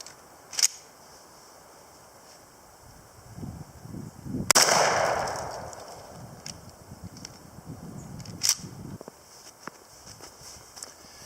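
A shotgun fires Winchester Universal number 5 shells at a turkey patterning target outdoors; one loud sharp blast with a decaying tail, flanked by fainter clicks and light handling noise.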